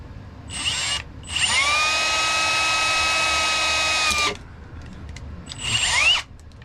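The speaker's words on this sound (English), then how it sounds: "I'm gonna go on and drill this out." Power drill boring out a part of a 1970 Buick Wildcat dash cluster, two short high whines, then a long steady drilling run of about three seconds, then another brief burst, close by with quiet gaps between.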